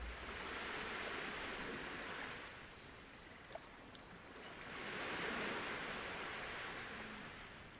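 Ocean surf from a survival video game set in a strange land, broad rushing waves swelling and receding in two slow surges, steady and fairly loud with no talk.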